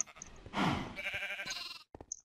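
A sheep bleats in a video game during animal breeding: one drawn-out, wavering bleat up close, with a few soft interface clicks before and after.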